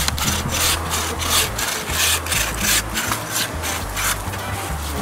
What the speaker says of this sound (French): Alors ici, ça scie.